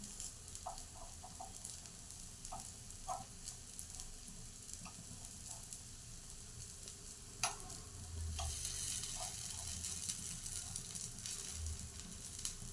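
Ponganalu cook in a pan with a steady, soft sizzle and frying crackle, broken by small ticks and a few louder clinks of a utensil, with no talking.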